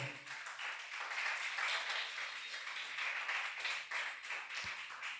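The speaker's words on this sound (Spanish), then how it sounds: "Dale fuerte el aplauso a Dios" A church congregation claps steadily and loudly for several seconds, the applause dense and sustained with no talk over it.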